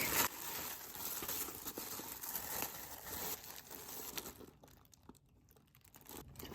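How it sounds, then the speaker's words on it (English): Tissue paper from a monthly bead and jewelry-making supply box is opened and crinkled close up, a steady run of soft papery rustles and crunches that quiets toward the end. "let's open up the tissue paper and get a little peek"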